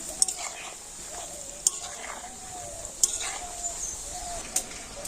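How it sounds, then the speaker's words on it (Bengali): A spatula stirs sooji pithe frying in a wok, with steady sizzling oil and a few sharp metallic scrapes and clinks against the pan at roughly even intervals, close and moderately loud. "একটু ভেজে নিয়ে তারপরে খুন্তি দিয়ে এরকম আমি একটু নাড়ি চালিয়ে দেবো"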